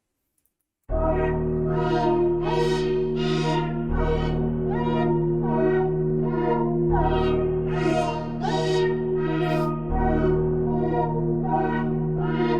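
A trap beat with deep sustained bass and layered chords, hi-hats and snare hits repeating rhythmically over a steady groove, starting after a brief silence.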